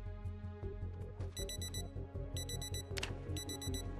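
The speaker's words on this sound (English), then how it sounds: "the way we're gonna be doing that is by setting an alarm." An alarm clock rings in the Project Zomboid video game, repeated bright electronic beeping bursts in short clusters over a dense, steady in-game background.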